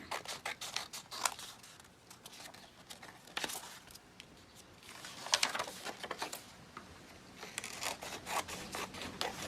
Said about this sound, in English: I'm going to cut on this line here.